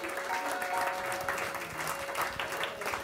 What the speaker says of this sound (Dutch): Mag ik een heel groot applaus voor Connie?